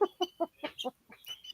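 A rooster clucks in a run of about eight short, close calls, the first few loud and evenly spaced, later ones softer and more broken.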